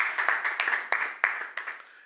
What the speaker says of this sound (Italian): Applauso